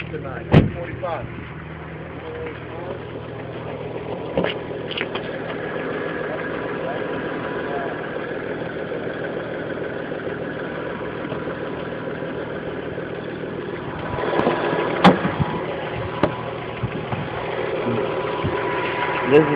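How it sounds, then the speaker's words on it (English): Audi S4 twin-turbo V6 idling under the open hood, a steady low engine hum running throughout with a few sharp knocks and a slightly louder stretch near the end; a voice is heard at times. "V6 bit turbo engine running here, so you know this bad boy is very powerful"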